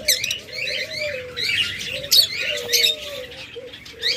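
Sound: lovebirds and other cage birds chirping

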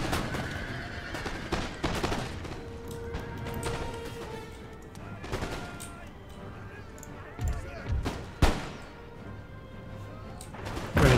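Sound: musket volley fire in video game Empire Total War

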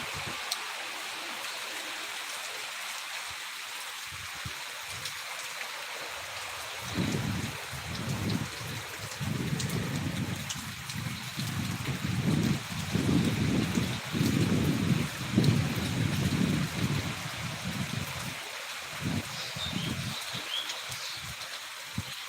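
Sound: rain and windstorm in Rajshahi

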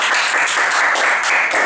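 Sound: applause for the cameraman

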